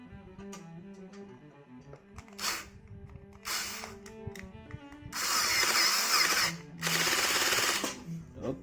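A cordless power drill backing a screw out during IKEA KRYDDPEPPAR furniture assembly, heard as several close whirring bursts: two short ones, then two longer ones. Light background clatter and a faint voice run underneath.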